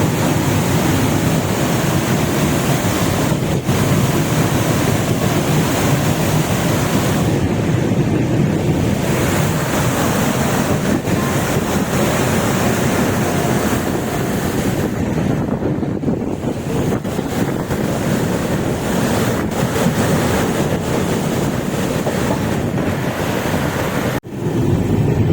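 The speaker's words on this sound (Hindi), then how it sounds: "डैम का पानी देखो कितना बह रहा है।" Water rushing through Farakka Dam on a river, heard as a continuous broadband roar mixed with heavy wind buffeting against the microphone, with no voices.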